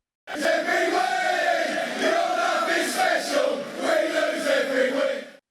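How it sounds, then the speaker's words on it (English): A large football crowd sings together in a sustained, swelling chant, loud and continuous with rising and falling waves of voices, like stadium supporters. "If you said D. Manolo Gabbiadini, you would have heard the crowd singing."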